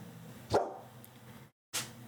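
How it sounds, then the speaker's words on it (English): A puppy gives two short, sharp barks indoors, the first followed by a faint yip and the second after a brief silence, close and fairly loud over low room noise. "Stop it. Stop barking."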